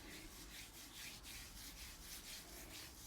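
A homemade facial scrub with liquid soap is rubbed over skin, a soft, steady gritty swishing in repeated back-and-forth strokes, close and quiet, with no speech.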